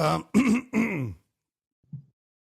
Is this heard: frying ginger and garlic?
no